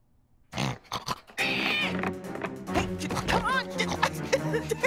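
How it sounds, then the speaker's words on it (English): A cartoon pig grunts and oinks in an animated fantasy series, loud snorting squeals and rough grunts that rise and wobble after a short silence, close and continuous. "A pig?"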